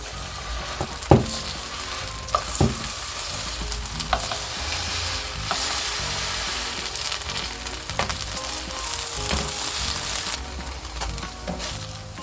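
Potato pancake batter made with imitation crab sizzles steadily in hot oil in a frying pan, a continuous close crackle broken by a few sharp clinks and scrapes of a utensil against the pan, with no talking.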